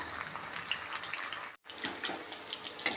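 Chicken 65 pieces frying in hot oil: a steady, fairly quiet hiss and crackle of bubbling oil that drops out for a moment, then resumes, with no talking.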